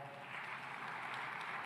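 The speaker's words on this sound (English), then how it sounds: "A big round of applause for her." An audience at a food systems forum applauds a Norwegian development minister, a faint, even patter of many hands heard from a distance, steady and unbroken for the short moment.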